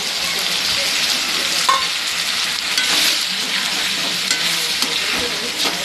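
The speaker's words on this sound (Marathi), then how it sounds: "आता मी अख्खा मसूर टाकून घेणार आहे." Whole masoor lentils sizzling loudly in a hot pan while being stirred, a close, continuous crackling fry with scraping stir sounds throughout and no talking.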